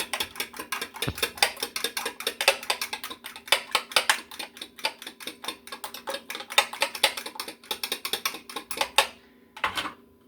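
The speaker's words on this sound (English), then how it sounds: "And whisk the egg until they will be beaten." Eggs are whisked in a bowl for an omelette, a rapid train of light metallic clicks and taps that runs steadily for about nine seconds, pauses, then resumes briefly.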